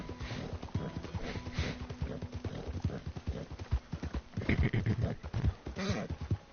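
A horse's hooves clip-clop steadily in Red Dead Redemption II, close and prominent, the pace firming up later, with a snort or sniff mixed in among the strikes.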